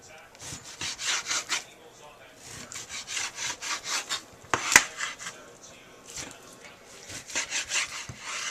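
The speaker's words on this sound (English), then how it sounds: "we're going to cut that up nice and thin. Nice thin long slices." A knife slices a whole top sirloin steak into long thin strips for fajitas, giving repeated soft rasping strokes in steady bursts, close and moderately loud, with one sharper knock partway through.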